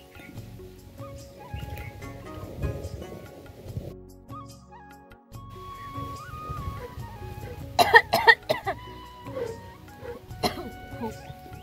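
A person coughs in several harsh bursts after blowing on a wood-fired chulha stove through a blow pipe, close and loud, with talking before and after the coughs.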